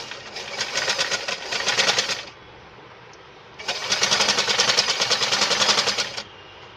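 A sewing machine stitches 2-inch piping onto a ruffle with a half-inch margin, whirring close and loud in two runs of rapid, even stitching separated by a short pause.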